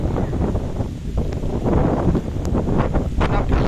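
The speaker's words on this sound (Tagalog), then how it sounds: "napalakas na hangin super lamig" Strong wind buffets the microphone with a loud, continuous roaring rumble that never lets up.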